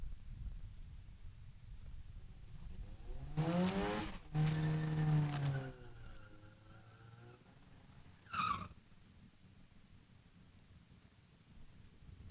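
Drag racing cars launch down the strip at a raceway in two quick, fading engine bursts a second apart, followed later by a faint squeal, all heard from a distance against a quiet background.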